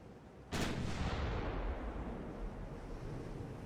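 A single heavy naval gun salvo from warships in Ultimate Admiral: Dreadnoughts booms out sharply, then trails into a long, low rumbling roll of sea and distant thunder-like echo, with no voices.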